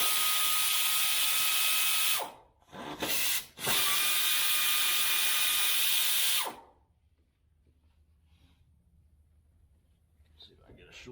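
Bolts being pulled from the intake manifold of a 1977 Pontiac Trans Am engine with a power driver, which gives two loud, steady whining bursts separated by a brief clatter and is then followed by quiet shop sounds.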